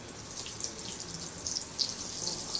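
Chicken nuggets drop into hot oil and fry with a continuous hiss, broken by scattered sharp crackles and pops at close range, with nobody speaking.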